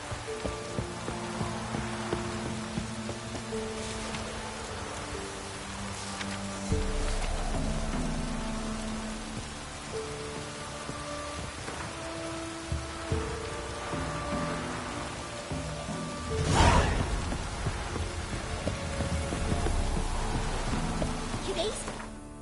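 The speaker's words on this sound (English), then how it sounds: "Oh, it's drizzling." Light drizzle falls in The Witcher 3 video game, a soft patter that sits beneath game music, with a brief louder burst partway through.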